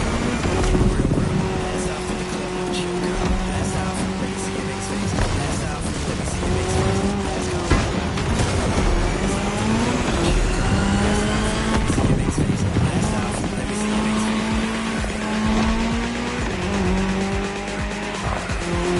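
A race car in The Crew runs hard with a loud, continuous engine roar shifting up and down in pitch through gear changes, mixed with tire squeal and skidding across the whole stretch, while a voice talks over it at times.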